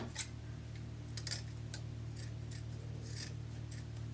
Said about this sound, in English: I'm going to cut from the wire to the crease at an angle